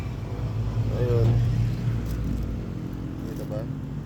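Steady roadside traffic beside a highway: a continuous low rumble of passing vehicles and engines, with a brief tonal whine near the middle, heard close and fairly loud throughout.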